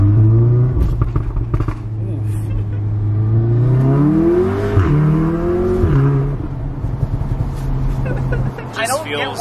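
Mk7 Golf R with an APR downpipe and pops-and-bangs map accelerating from inside the cabin, a low engine drone rising and falling in pitch through several rev sweeps, loud and close, with people talking over it.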